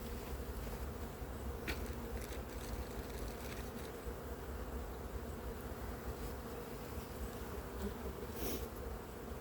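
Honeybees buzz around an open hive while a pollen patty is placed, a dense, continuous drone of many wings with occasional individual bees passing close.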